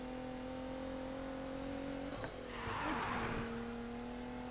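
A race car in Need for Speed Heat drives fast with a steady, droning engine tone. Midway a brief louder burst of road and tire noise swells, then the engine settles back to its even whine.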